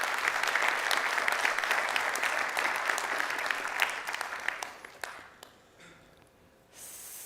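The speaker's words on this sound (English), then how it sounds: "I want to give a big round of applause to the kernel developers" A conference audience claps for kernel developers in a full, sustained burst that thins into scattered claps and then fades to near silence before some room noise returns.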